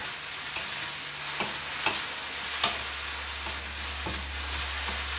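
Kale greens stir-fry in a pan with chili, giving a steady, close sizzle and hiss, broken by a few soft clacks of stirring and a low hum.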